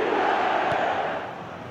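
The stadium crowd in a football video game sends up a loud, sustained roar of massed voices that fades a little toward the end, with no commentary over it.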